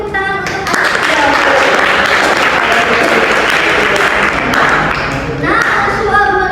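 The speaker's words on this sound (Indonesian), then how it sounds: "beri tepuk tangan untuk Anissa" Classroom applause for a student named Anissa, a burst of many hands clapping close and loud for several seconds, with speech briefly audible at the edges.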